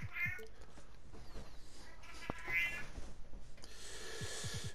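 A cat meows repeatedly and close by, in a run of insistent, drawn-out cries with short breaks between them, heard indoors during an NBA 2K22 gaming session.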